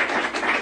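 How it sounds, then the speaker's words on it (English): Brief burst of studio audience applause for a performer on a TV show, a dense wash of clapping heard alone for under a second. "She gets the applause."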